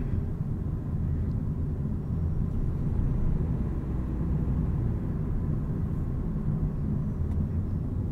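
Inside a 2023 Toyota Prius XLE with its 2-liter hybrid engine while driving, a steady low cabin rumble and road drone hold throughout, even and moderately loud with no talking.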